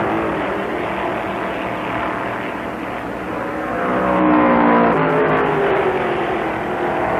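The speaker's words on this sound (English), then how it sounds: "his son streaks by Turner and goes into a lap lead" 1965 stock cars race in the American 500, and a continuous loud engine roar builds to a peak as the cars speed past, then eases slightly while staying strong. No voices are heard.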